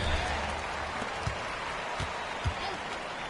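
Home crowd noise fills a basketball arena during the fourth quarter of a Jacksonville game, a steady roar with a few soft thumps, under and between talk.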